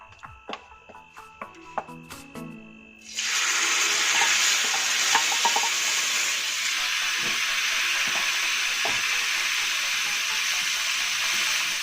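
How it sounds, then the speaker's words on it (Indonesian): Fern leaves hit hot oil and erupt into a loud, steady sizzle that holds for several seconds, preceded by a few clinking utensil taps and short scrapes. "Ini minyaknya sudah panas, jadi langsung saja kita masukkan pakis."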